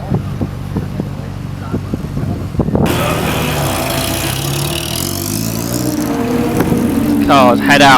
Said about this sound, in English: Cars head out towards the collecting area where the cars will gather before the start of what will be a 20-minute race around the Croft circuit